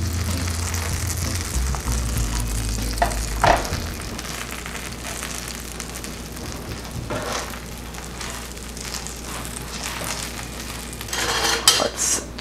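Butter sizzles in a hot pan while cheese is cooked, with clattering pan and utensil knocks and a brief louder burst of frying near the end; no voices.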